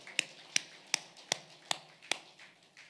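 Six sharp, evenly spaced claps ring out in a steady rhythm from a church congregation praising God at a New Year special revival service, fairly faint with a quiet room between each clap.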